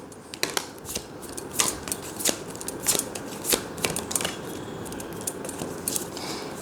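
Tarot cards are shuffled and drawn from a deck in a Hindi reading, giving close, crisp papery riffles and flicks in short bursts over a soft steady hiss, with no talking.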